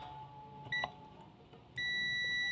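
A multimeter in continuity mode beeps while its probes touch a capacitor's terminals: a short high tone sounds near 0.7 s, then a steady loud beep starts at 1.8 s and runs to the end, with low background hum.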